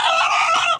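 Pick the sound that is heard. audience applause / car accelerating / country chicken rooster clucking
country chicken rooster clucking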